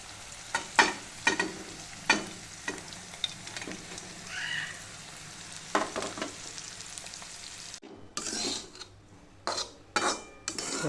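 Shredded chapatis tipped into a pan of sautéed seasoning and stirred for upma, a run of sharp spoon-on-pan scrapes and clinks with faint sizzling between, then a brief break and a louder burst of stirring, close by.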